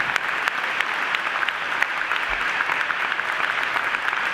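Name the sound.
audience applause for the elders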